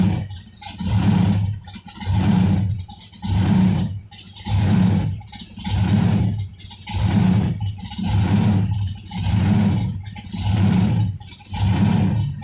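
A supercharged hot rod engine at a car show runs with a loud, rhythmic lope, surging and dipping about once a second in steady cycles, close by with no talk over it.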